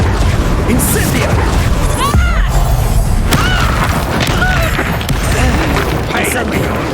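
Spell blasts from Confringo and Incendio in Hogwarts Legacy: dense, continuous combat with repeated booming impacts, crashes and whooshing magical bursts. Voices are heard throughout the fighting.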